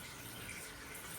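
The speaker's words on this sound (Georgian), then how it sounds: "ეხლა მოვუშვათ თბილი წყალი." Warm water runs steadily from a bathroom tap as a bath is filled, a continuous close, soft hiss of flowing water with no breaks and no voices.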